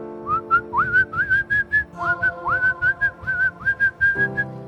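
Someone whistles a quick series of short, rising and level notes, bright and close, in a bouncy rhythm over a faint low background.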